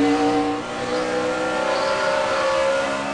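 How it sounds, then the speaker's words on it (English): NASCAR Sprint Cup stock cars race at Phoenix in a 2011 Cup race, a steady loud roar of V8 engines revving together with a sustained high whine that holds throughout, with no talk. "Looks like Kurt in the 22 tried to do the crossover through 1 and 2"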